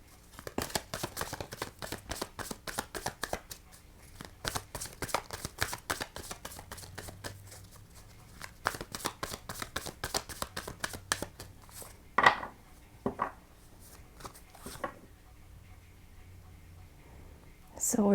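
Tarot cards being shuffled, a long run of rapid soft riffling flicks in bursts with brief pauses, then a few sharper slaps and taps as the deck settles, fairly close and quiet.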